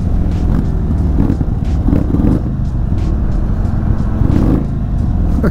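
An Indian Chief Dark Horse motorcycle fitted with slip-on exhausts rumbles loudly close by, its deep engine note swelling through several revs over a steady idle.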